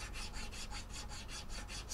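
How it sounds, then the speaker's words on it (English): A file rasping on a wooden saddle or bridge ramp of an Epiphone Model 3 guitar during a neck reset, about ten even back-and-forth strokes in a steady rhythm, close and soft, with no talk. "I do filing,"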